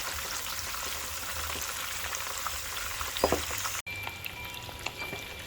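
Steady sizzling of milkfish frying in a hot skillet, a continuous crackling hiss with a brief dip near the end, no voices.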